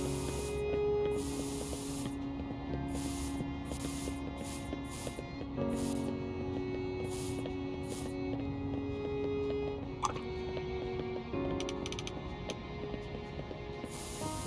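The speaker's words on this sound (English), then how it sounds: "I think I was vibing with the spray paint quite a bit." Spray paint can hissing in a run of short, sharp bursts, some quick and some held for a second or more, close and crisp over a soft background of music.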